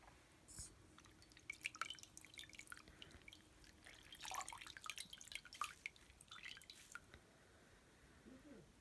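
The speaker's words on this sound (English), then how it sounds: "very gently, I'm going to press the water out of each swatch" Water dripping and squishing from hand-pressed knitted swatches laid on a towel, a series of faint, irregular wet drips and soft squelches close by, with light handling noise throughout.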